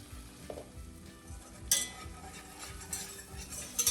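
A flour mixture cooks and sizzles in a pan, with soft stirring scrapes and light utensil clinks around a steady low frying hiss; close and fairly quiet, no talk.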